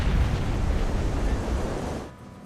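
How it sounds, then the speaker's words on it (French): A dramatized Air France Rio–Paris airliner strikes the ocean at about 200 km/h, heard as a loud, dense roaring crash of low rumble and spray that holds steady, then drops sharply near the end. "L'avion percute l'eau à près de 200 km/h."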